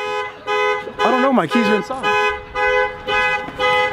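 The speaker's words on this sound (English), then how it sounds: "Bob Z set the car alarm off." A car alarm blares in a steady repeating pulse of loud horn-like tones, close by, while a person speaks over the middle of it.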